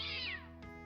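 An angry cat meows once in the video game Fields of Mistria, a short, loud, strained cry that falls in pitch and then trails off.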